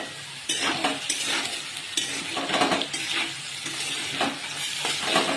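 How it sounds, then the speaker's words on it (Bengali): Potato pieces frying in a pan with turmeric, stirred repeatedly so a spoon scrapes and clatters against the metal in regular strokes over a steady close sizzle. "আলুগুলো আমি খুব ভালো করে একটু ভেজে নেব।"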